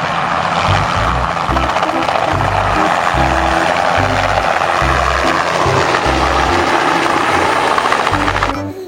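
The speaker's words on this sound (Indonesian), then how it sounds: "Yang ini ada helikopter." A toy helicopter gives off a loud, continuous whirring drone with a rapid pulsing beat, close by and steady for several seconds before stopping abruptly.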